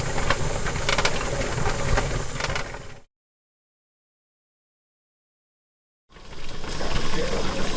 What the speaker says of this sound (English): if you see that steady stream of steam coming out, that's exactly what you want